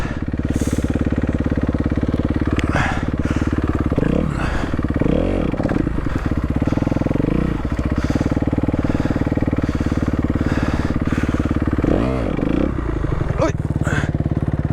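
Dirt bike engine revving hard and dropping back in repeated surges during a wheelie attempt, loud and close, with the pitch climbing and falling around 4–5 s and again near 12 s.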